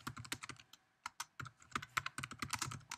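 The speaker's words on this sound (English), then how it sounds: "In the forum introduction, I'm going to type in some instructions for the students in my class." Keys clatter on a computer keyboard in quick, irregular bursts with a brief pause partway through, close and clear with no voice present.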